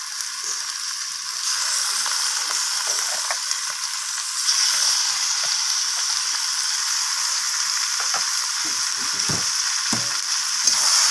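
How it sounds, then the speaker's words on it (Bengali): Chicken gizzard and liver fry with onion and tomato in a pan as a broad, steady sizzle that swells slightly partway through. Scattered stirring scrapes and clicks sit close on top of it, with no speech. "এরপর পেঁয়াজের সাথে আমি এগুলোকে ভালোভাবে এইভাবে নাড়াচাড়া করে এইভাবে ভেজে নেব"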